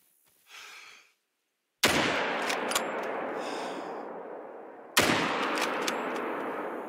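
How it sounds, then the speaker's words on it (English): Two loud rifle shots ring out at a mule deer in the hunting game theHunter: Call of the Wild, each a sharp crack with a long rolling tail, spaced about three seconds apart after a brief faint rustle. "We'll take our shot."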